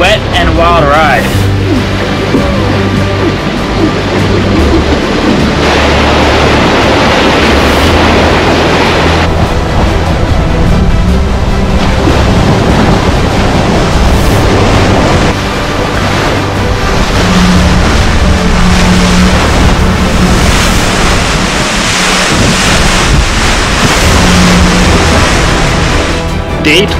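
A Mini 6.50 racing sailboat crossing the ocean from France to the Azores fills the sound with a loud, continuous roar of rushing water and wind, surging and crashing unevenly as the hull pounds through waves.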